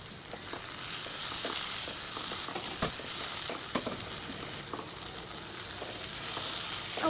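Shredded red dried fish (shutki) fries with chopped coriander in a pan, a dense continuous crackle and sizzle with occasional stirring scrapes, close and even throughout, no voices.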